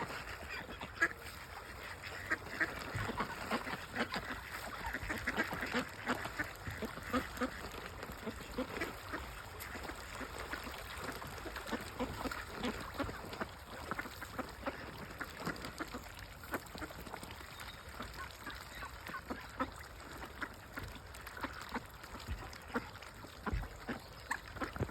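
Wild ducks on a river, with a dense flock calling continuously in honking, quacking bursts over outdoor background noise, no talking.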